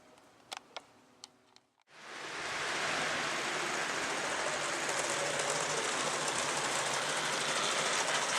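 A few sharp ticks and clicks, then a Hornby model locomotive starts up and runs steadily along a layout with a continuous whirring, rattling hiss that holds close and even to the end.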